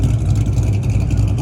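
A Dodge Hellcat's engine rumbles with a deep, loud, steady tone close by at a car meet, a brief burst of low exhaust noise with voices around it.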